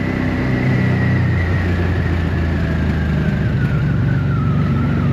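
A barn-find 1984 Honda V65 Magna VF1100C motorcycle engine running rough on one cylinder, a steady loud uneven idle drone that lasts throughout, with no voices.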